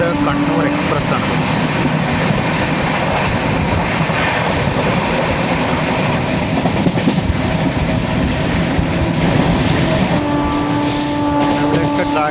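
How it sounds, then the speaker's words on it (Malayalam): Palakkad–Kannur Express passenger train, number 66611, rumbling past steadily at close range with dense broadband rail noise and wheel clatter, a brief tonal horn-like wail near the end. "66611 പാലക്കാട് കണ്ണൂർ എക്സ്പ്രസ് ആണ്."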